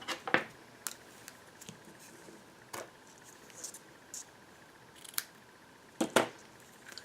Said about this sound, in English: I have a piece of basic black shimmer ribbon. And I'm going to cut 2 pieces across.